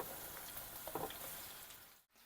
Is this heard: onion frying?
yes